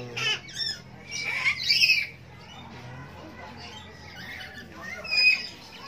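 Numerous birds in a zoo cage squawk in sharp, scattered bursts, some loud and near, over a low background murmur, with people talking faintly amid the calls.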